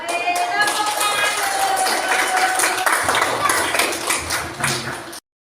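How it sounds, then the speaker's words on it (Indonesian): A fourth-grade class claps together in a school classroom, a busy, fairly close patter of hands mixed with children's voices and chatter. "Mari tepuk tangan"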